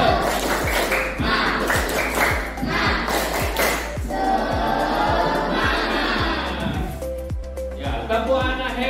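Children in an Indonesian classroom do a rhythmic spirit clap, a loud repeating pattern of group claps joined by chanting voices, with shouts and a cheer near the end.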